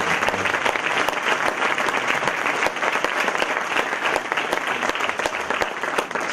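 Warm applause from an audience at a political association's presentation, a dense, even patter of many hands clapping steadily throughout without a break.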